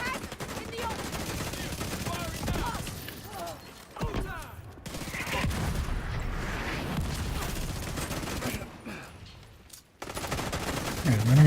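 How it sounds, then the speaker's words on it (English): Mortar salvos in a video game on heroic difficulty, a dense stretch of booming, crackling blasts that repeats in bursts, with a brief lull near ten seconds before the barrage picks up again. "Seeing as we're still getting mortared."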